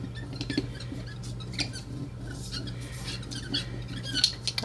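A rubber brayer roller is pressed and rolled over paper during watercolor card making, giving quick repeated squeaks and rubbing patter, fairly close, with no talking.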